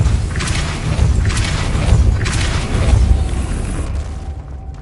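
Depulso spell cast in the game Hogwarts Legacy, a series of booming magical bursts with thuds, repeating roughly once a second over a low rumble, loud and close.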